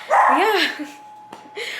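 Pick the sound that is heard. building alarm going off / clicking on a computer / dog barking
dog barking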